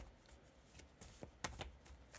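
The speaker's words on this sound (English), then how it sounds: "I'm going to shuffle." Tarot cards are shuffled close up, a soft, quiet riffle of flicks and rustles lasting a couple of seconds.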